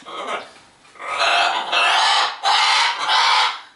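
A pet bird squawks noisily in an indoor room during a needle tatting session, giving a series of loud, harsh, raspy calls in close succession.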